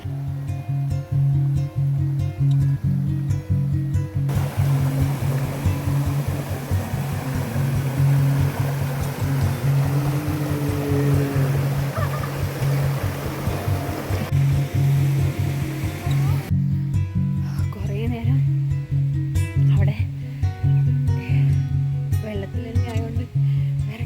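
Cold mountain stream water at Vattavada in Idukki, Kerala, rushes in a constant broad hiss throughout, close and loud, with a steady tonal hum and voices faintly in the background.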